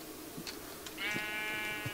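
A blocky sheep bleats in the Minecraft video game, one short wavering cry up close, with faint game sounds and a brief low thud around it.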